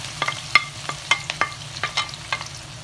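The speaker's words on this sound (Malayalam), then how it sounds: "എണ്ണ നല്ലത് ചൂടായിട്ടുണ്ട് അതിലേക്ക് ഇച്ചിരി ബേ ലീവ്സും സിനിമ സ്റ്റിക്കും ഇട്ട് കൊടുക്കുക ഇനി അതിലേക്ക് നമുക്ക് സവാളയും പച്ചമുളകും" Onion and green chillies fry in hot oil in a pan with bay leaves and cinnamon stick, cooking for pasta. A steady sizzle runs throughout, broken by about a dozen sharp scraping stir strokes, close and moderately loud, with no voices.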